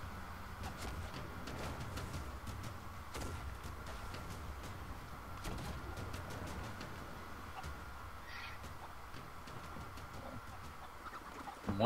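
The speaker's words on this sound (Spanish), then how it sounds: "¿Y se ha puesto a coger a las gallinas?" Chickens cluck and coo in the Sea of Thieves video game, a steady soft flock chatter running throughout against a constant low game ambience, with a brief louder burst at the very end.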